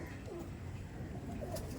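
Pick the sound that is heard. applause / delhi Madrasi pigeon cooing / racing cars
delhi Madrasi pigeon cooing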